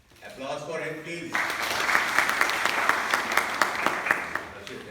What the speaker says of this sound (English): Applause for him, please.